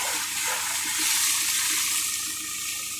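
Strong water gushing from a newly drilled borehole well, a loud continuous rushing splash with no pauses, close by and alone.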